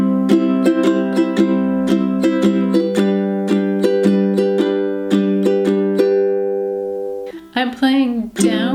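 A ukulele is strummed in a six-beat down-down-up-down-up pattern, with bright repeated chord strokes ringing close and clear. It plays alone for several seconds before a voice starts speaking at the end.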